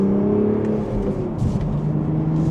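A BMW Z4 with a manual transmission accelerates mildly in second gear in sport mode, the engine tone rising and then easing into a smooth whir.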